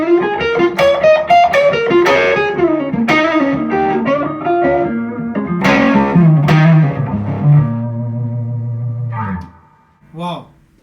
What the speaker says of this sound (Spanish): esta Les Paul R6 con P90, que es una delicia de guitarra, suena así, ¿no?